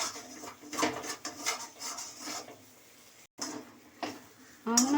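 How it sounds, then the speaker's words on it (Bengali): Dal filling stirred lightly in a pan for dalpuri, a dry scraping and rubbing of a spoon against the pan in uneven strokes, close and moderately loud, with a short gap of silence before the scraping resumes. "ওই জন্য যার জন্য একটুখানি হালকা করে নেড়ে নেবো"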